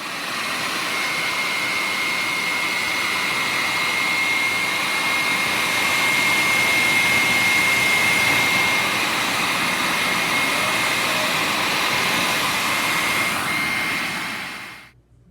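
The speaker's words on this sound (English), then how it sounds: "So I'm gonna take a heated dryer, a hot dryer, and just blow dry it." Hot hair dryer blowing on a refrigerator label to loosen the glue, a loud, steady, close whooshing roar with a faint high whine, running for about fifteen seconds before cutting off.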